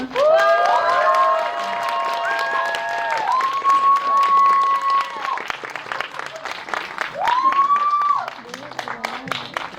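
A film screening Q&A audience for Exhuma bursts into louder, sustained applause and cheering to welcome the director and an actor, with high shouts rising over the clapping and a voice speaking in between.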